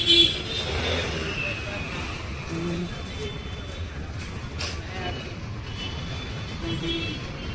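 Night traffic on a national highway: a continuous low rumble of passing cars and heavier vehicles heard from the roadside, moderately faint, with a person talking over it.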